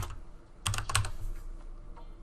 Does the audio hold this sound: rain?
no